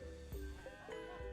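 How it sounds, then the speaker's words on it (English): Goats bleat in the RimWorld colony game, a short cluster of wavering calls layered over steady game music and ambient tones, moderately loud and close. "Got some goats."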